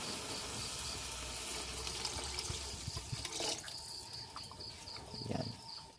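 Water runs and splashes steadily into a cooking pot for rice porridge with meat, a continuous gurgling pour with a couple of light clinks near the end.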